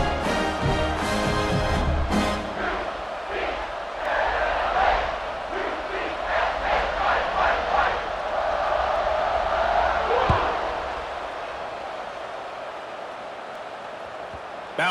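A stadium crowd in EA Sports College Football 26 roars in a broad, sustained wash of cheering and yells, swelling and then fading over several seconds while a commentator's voice rises through it.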